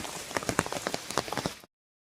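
Rain pattering steadily on a village road on a rainy holiday, a dense close patter with scattered sharper drops that stops abruptly near the end.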